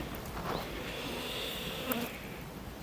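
Honeybees buzzing steadily around a hive during the making of an artificial swarm, a soft continuous drone throughout with no talking.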